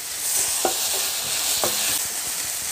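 Vegetables frying in a pan after a small splash of water, a steady loud sizzle with two sharp hissing bursts and faint stirring scrapes, close up.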